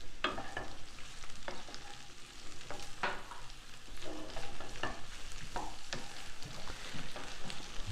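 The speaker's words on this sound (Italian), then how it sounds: "Li faccio prima rosolare, poi aggiungo il vino e li faccio cuocere coperti." Food sizzles and fries steadily in a pan with scattered stirring scrapes and clinks throughout, no voices, as meat is browned with garlic before wine goes in.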